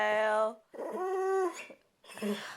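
A dog howls and yowls in drawn-out, tonal bursts along with a playing novelty song, three wavering vocal phrases separated by short gaps, loud and close.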